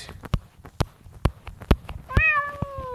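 A cat meows once in The Impossible Quiz video game, a clear drawn-out cry near the end, preceded by a run of sharp clicks or thumps.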